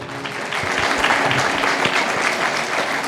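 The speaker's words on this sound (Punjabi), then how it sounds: "ਤਾਲੀ ਮਾਰੀਏ ਜ਼ੋਰ ਦੀ" Loud, dense applause from a sermon audience fills the space continuously, a sustained wash of many hands clapping together with no voices on top.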